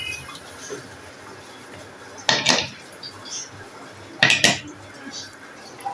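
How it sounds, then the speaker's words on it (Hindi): Two sharp metallic clanks a couple of seconds apart as a pressure cooker lid is set and locked on, with quiet background between. "और फिर कुकर को करते हैं बंद।"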